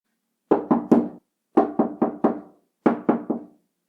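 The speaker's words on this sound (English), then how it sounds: "the urgent knocking shattered the silence of the entire building" Urgent knocking on a door in three quick bursts of three or four sharp raps each, separated by short pauses; close, clear and alone against silence.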